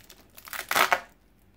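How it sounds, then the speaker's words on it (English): A short burst of crinkling and tearing foil as the lid is torn off a chocolate steamed pudding pot, rising to a louder rip near the middle and then fading to quiet. "And I can't get the lid off."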